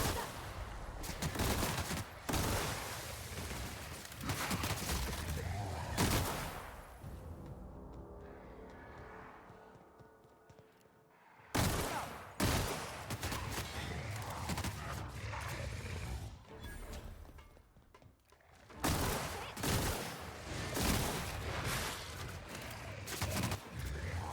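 Combat gunfire in the game The Outer Worlds among ruins, dense bursts of shots and impacts that pause briefly mid-clip before resuming, steady and fairly busy throughout with no talk.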